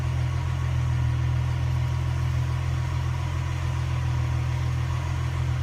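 A car engine idles with a steady, loud low drone that runs unbroken throughout, with no talking over it.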